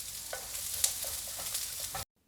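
Edamame stirred and frying in garlic and oil in a pan: a steady close sizzle with light scraping stir taps throughout, ending abruptly, with no talking.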